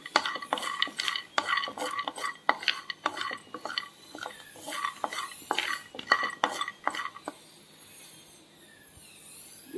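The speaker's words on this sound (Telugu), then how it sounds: "ఇలా పాన్ హీట్ అయిన తర్వాత ఇలా ముందుగా వేరుశనగ గుళ్ళు వేసుకోవాలి" Peanuts frying and being stirred in a hot pan, with a rapid run of clattering scrapes and knocks of a spoon against metal over a faint sizzle, close by, easing into quieter frying near the end.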